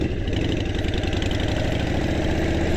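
A vehicle's engine runs steadily and loudly while it is ridden, a close, continuous mid-pitched drone with a fast pulsing rumble and no break.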